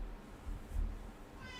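A cat meows at close range in a quiet indoor room, one drawn-out cry that swells in the middle and then fades, with a soft higher mew near the end.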